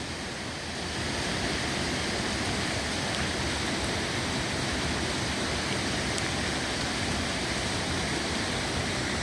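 A river rushing through a ravine along the Appalachian Trail, a steady broadband roar of flowing water that holds even and close throughout with no voices.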